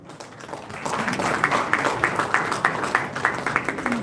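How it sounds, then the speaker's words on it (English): An audience at an innovation challenge conference in Goa breaks into applause that swells after a moment into steady, rhythmic clapping, filling the hall and holding to the end. "let's give a big round of applause for Ms. Varsha."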